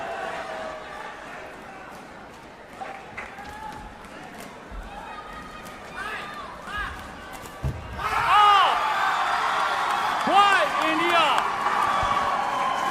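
Home crowd cheering and whooping at an ISTAF sepak takraw men's doubles match between Vietnam and India, swelling loudly midway and staying sustained, with a commentator talking over it.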